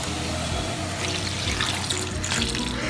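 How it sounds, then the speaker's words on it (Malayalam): Water is poured into a cucumber vegetable curry while it cooks, a steady splashing trickle that stays close and fairly loud, with no talk over it. "ഇതിലേക്ക് നമുക്ക് ഇത് വേവാനുള്ള വെള്ളം മാത്രം കുറച്ച് ഒഴിച്ചു കൊടുക്കാം"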